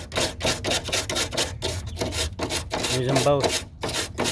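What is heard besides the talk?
scuffing plastic with sandpaper and a wire brush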